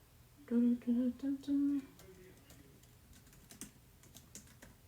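Four quick bursts of clacky computer-keyboard typing in a craft room, close and fairly loud, followed by quieter scattered key taps and faint handling noise.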